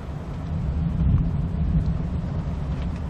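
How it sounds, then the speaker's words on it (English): Deep, continuous rumbling from a storm outside, steady low roar with a slight swell in the middle, heard from indoors with no talking. "It's a storm, y'all."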